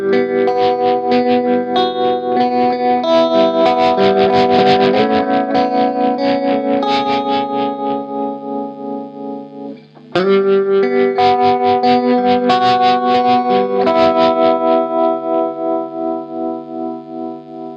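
An electric guitar runs through an effects pedal with distortion and chorus, giving a thick, swirling sustained tone. It plays loud and alone, pauses briefly, then continues.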